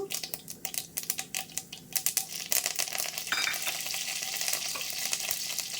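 Mustard seeds and curry leaves spluttering in hot oil, a dense run of sharp crackling pops close by that settles into a continuous loud sizzle, with no talk.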